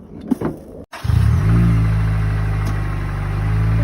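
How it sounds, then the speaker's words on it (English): An Infiniti car at a towing auction cranks on a jump box and catches quickly, then settles into a loud, steady idle close to the listener. "he has hooked up the jump box on the Infiniti and put it in gear. It started right up with the jump box"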